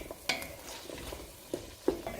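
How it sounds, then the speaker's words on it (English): A spoon stirs potatoes into a pot of homemade cabbage soup, with soft scraping and a few sharp knocks against the pot over a faint simmering background. "And then I'll stir."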